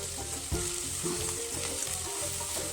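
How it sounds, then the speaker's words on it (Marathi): Fenugreek leaves fry in hot oil with ground chillies, giving a steady, close sizzle and crackle along with a few soft stirring knocks in the pan. "ते सगळं तेलामध्ये टाकून दिलं आणि वरतून ना मेथीची भाजी देखील टाकून दिली जाते"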